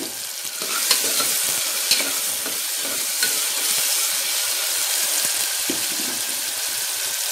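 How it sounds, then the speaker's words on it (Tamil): Onions and tomatoes with a little salt sauté in a pan for a mochakkai kuzhambu, giving a loud, dense, continuous sizzle with occasional scraping stir strokes and light clinks, no voices present. "வெங்காயம் தக்காளி கொஞ்சம் வதங்கட்டும் பார்க்கலாம்"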